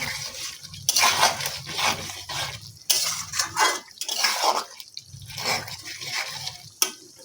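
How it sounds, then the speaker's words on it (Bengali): A spoon scrapes and clatters against a pot while chicken curry is stirred, giving repeated close metallic scrapes with wet, bubbling sounds and no talking. "এটাকে ভালো করে একটু নাড়াচাড়া করে নিচ্ছি।"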